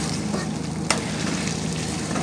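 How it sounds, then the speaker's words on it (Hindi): Potatoes fry in a pan with a steady, loud sizzle while being stirred, with one sharp utensil scrape partway through and no voices. "अब इसके अंदर हमने आलू डाल दिया। अभी आलू इंशाल्लाह मिक्स करेंगे।"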